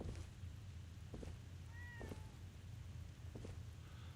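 Cat in Fallout 4: a single short meow, faint, in the middle of a low droning background hum, with a few soft taps around it.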